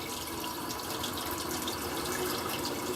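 Water drains in a steady, close rushing and trickling stream at a fireplace in a 1970s North Dallas ranch house, constant and moderately loud with no voices.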